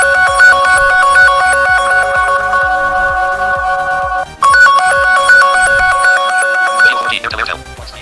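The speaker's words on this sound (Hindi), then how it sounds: "मैं play sound पे क्लिक करूंगा तो मेरे दूसरे फोन में जो है साउंड बजता है या नहीं" An Android phone rings loudly and close by as a remote locate-and-play-sound alert, a repeating electronic melodic ringtone that pauses once briefly, then resumes before cutting off near the end.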